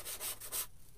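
A hand sander with a Velcro sanding disc rubs in three quick, rhythmic strokes, close and fairly faint, then falls quiet.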